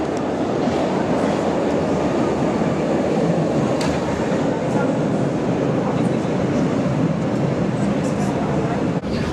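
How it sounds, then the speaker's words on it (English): A Berlin U-Bahn line U55 train pulls into a station, a loud, sustained rumble of wheels and carriages with faint clicks and brief squeals, and a voice talks briefly over it. "And here's the train now."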